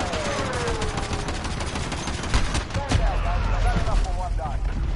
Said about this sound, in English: Hello, cruise missile.